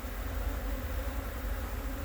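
Honeybees drone steadily and close around a beekeeper's head, a continuous even buzz with no pauses.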